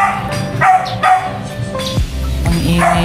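Several loud, close dog barks and yelps ring out at uneven intervals, heard outdoors among potted philodendron plants.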